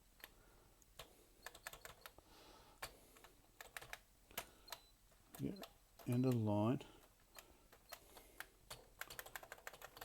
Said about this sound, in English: The keyboard is responding.